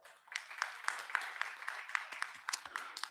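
Sparse, uneven clapping from an audience at a spiritual study camp in a dharmshala hall, individual claps ringing out in a loose irregular rhythm, fairly faint and thin rather than a full ovation.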